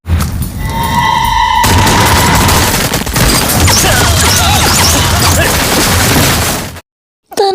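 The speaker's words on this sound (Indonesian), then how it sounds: "suara tembakan memberondong ambulans di mana Firapan berada" Sustained burst of gunfire shooting at an ambulance in an Indian action film, a dense, loud, continuous crackle of shots with crashing impacts, cutting off abruptly into a brief silence near the end.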